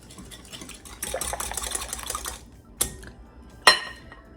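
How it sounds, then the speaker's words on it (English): Melted unsalted butter is whisked into a gluten-free pastry batter in a bowl: a quick burst of scratchy, rapid whisk strokes, then two sharp clinks of the whisk against the bowl. "Now it says to whisk it all together"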